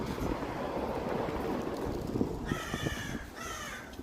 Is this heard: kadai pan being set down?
no